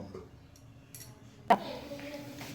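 A lid is set down onto a cooking pan while methi greens are prepared, giving one sharp metallic clink near the middle, close and moderately loud, followed by a brief ringing tail over quiet kitchen background.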